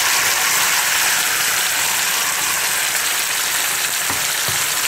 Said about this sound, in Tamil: இதை போட்டு நல்லா ஒரு கொதி கொடுத்துடலாம்.